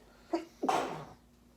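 A single sneeze: a short sharp intake followed by a loud burst of breath, close by and fairly brief, with quiet room tone around it.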